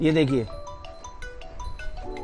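A mobile phone held in the hand rings during a home experiment with cow dung, playing a repeating melodic electronic ringtone at moderate level right after a brief spoken phrase.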